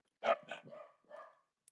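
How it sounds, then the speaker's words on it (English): Dogs bark indoors in a short, quick burst of a few yips and barks, fairly faint and somewhat distant, followed by a couple of sharp clicks. "dogs barking in the background"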